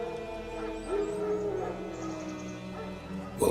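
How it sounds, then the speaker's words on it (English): Wild dogs whimper and yip in The Witcher 3 video game, thin whining cries over a droning ambient game soundscape, ending in a louder sudden burst. "Wild dogs. Yes. More dangerous than wolves."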